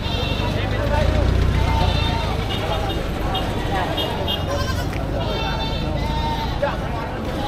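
At a Philippine livestock market selling goats, cattle and carabao, goats let out several wavering bleats amid steady crowd babble, with people talking throughout.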